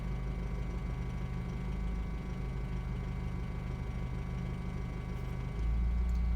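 A Jeep Liberty CRD diesel engine idles steadily with a constant low hum and tonal drone, then near the end the idle shifts as the revs drop and the low rumble changes.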